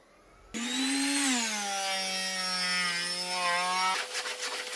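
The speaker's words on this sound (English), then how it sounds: "I moved very slowly with the floor sander without letting it stop in one place" A floor sander grinds slowly across a wooden floor, stripping filler with a steady, loud motor whine that rises briefly in pitch, then settles into a continuous drone before shifting to a rougher sound near the end.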